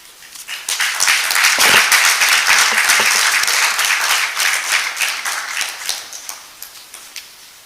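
A large audience at a Nigerian Academy of Science induction ceremony bursts into applause that swells quickly, holds as a loud continuous roar of clapping, then thins out toward the end, with no speech over it.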